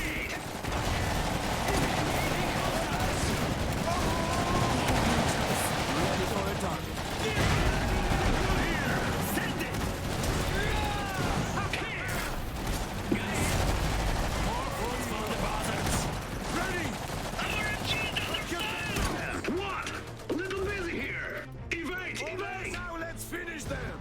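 Iron Harvest battle gunfire: steady rattling rifle and machine-gun fire with mechanical clanks runs continuously under game noise and voices, thinning out near the end.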